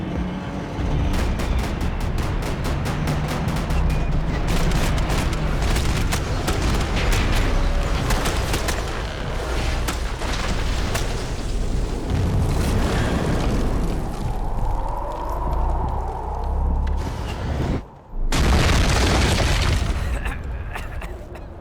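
Gunfire and explosions from Max Payne 3 rattle almost continuously, with rapid bursts of shots, heavy booming blasts and crashing debris, loud and close, broken by one brief near-silent gap before another blast erupts.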